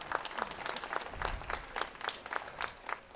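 Applause from an audience at a welcome ceremony for an Olympic vice-champion: steady, dense clapping with distinct sharper claps standing out, heard alone without talk.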